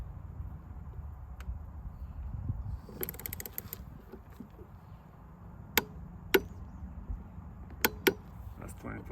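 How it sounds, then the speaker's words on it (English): Torque wrench tightening a 15 mm bolt on a Greenworks high-lift mower blade, with scraping and creaking turns followed by several sharp, separate clicks as it reaches 25 pounds, close and clear. "My torque wrench is set to 25 pounds. I'm just going to tighten it down"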